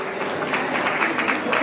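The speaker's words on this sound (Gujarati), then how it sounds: "જોરદાર તાળીઓ થઈ જાય એમના માટે" Audience applause for a retiring employee at a farewell in Dhrol, a dense, steady burst of clapping from a room of people, loud and close throughout.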